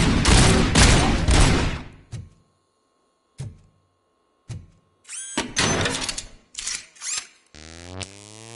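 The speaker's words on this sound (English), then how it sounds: "am I hearing gunshots?" Bursts of rapid gunfire with sharp single shots between quiet gaps from the video game RoboCop: Rogue City, ending in a rising electronic tone.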